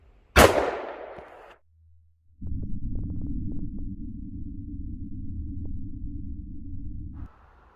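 A single sharp report from a Springfield XDM Elite 3.8-inch 10mm pistol firing Hornady Critical Duty ammunition into gel about ten feet away, loud and close, decaying quickly, followed by a steady low rumble.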